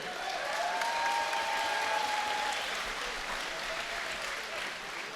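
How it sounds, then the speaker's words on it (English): A crowd applauds the two fighters after a combat-sports match: continuous clapping and cheering through the whole stretch, with a faint whistle or shout rising over it early on. "a round of applause for these two warriors."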